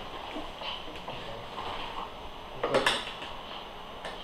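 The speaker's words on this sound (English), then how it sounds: "You put in one last ladle of stock." Stock ladled into a pan of a vegetarian dish cooking over low heat, a quiet kitchen scene with a soft splash and clink of metal against the pan partway through over a steady background hiss.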